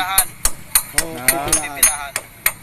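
Hammer blows on a stuck car brake caliper while removing it, about nine sharp metallic strikes at a steady, quick rhythm, close and loud, with a voice sounding briefly between blows.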